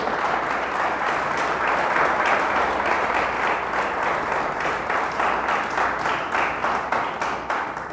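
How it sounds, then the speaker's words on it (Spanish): A church congregation applauds strongly and continuously during a service, dense many-handed clapping, loud and fairly close, holding steady throughout with no talk over it. "Dele fuerte el aplauso a Jesús. Déselo fuerte, fuerte."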